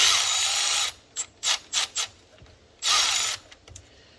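Hand ratchet clicking in short bursts while snugging a bolt on a rebuilt GTP38 turbo on a Ford Super Duty, two longer runs of rapid clicks separated by several quick single strokes, close and clear with no talk.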